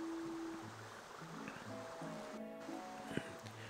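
Spring water flowing in the Paper Mario video game, a steady gentle wash of water running under soft game music, with no talk.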